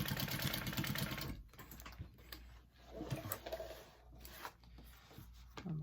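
A sewing machine basting fabric pieces of a mini backpack, with a rapid whirring stitch run that stops, then shorter bursts of stitching and small clicks between them, close and fairly quiet.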